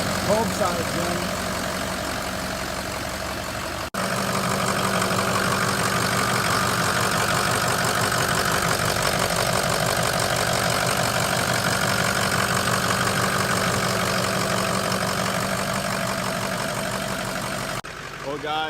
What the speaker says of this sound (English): we got the truck running